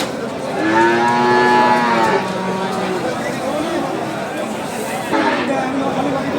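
Cattle at the rain-soaked Saat Mile cattle market lowing, with a clear drawn-out moo early on rising over steady market hubbub and rain noise, then fading into the background din.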